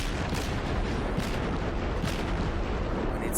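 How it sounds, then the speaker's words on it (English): German cruiser naval guns firing in World of Warships gameplay, a dense continuous roar of booming blasts and battle noise with several heavier thuds, loud and unbroken throughout. "fire the guns, maneuver."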